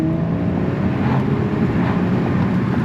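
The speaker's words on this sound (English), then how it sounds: "So if we get a nice downshift to 3 right here." A 2018 Audi B9 S4 Prestige engine drops to third gear in dynamic mode while driving in town, a steady low engine drone with road rumble throughout, a brief shift blip barely standing out.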